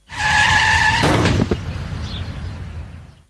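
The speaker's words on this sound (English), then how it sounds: "This is the sound of a child being hit by a car at 40 miles an hour." A car sound effect of a vehicle striking a child at 40 mph: a loud, close tire screech lasting about a second, followed by a sharp impact and a few scattered thuds and clatters that fade out.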